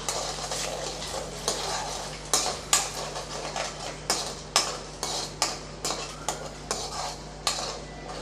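Vermicelli frying in a pan for semiya biryani, stirred with a utensil that clinks and scrapes against the metal again and again in an uneven rhythm over a constant close sizzle, with no voices.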